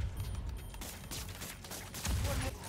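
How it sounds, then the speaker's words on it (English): Enemy plasma weapons fire in Spider-Man: Miles Morales, a dense rattling burst of shots and mechanical clatter heard close and fairly loud with no talking. "You may shoot me with your plasma weapon"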